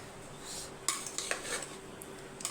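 A spoon scraping and clinking in a metal vessel while mixing cooked rice, faint close stirring with a few sharp taps over a quiet background.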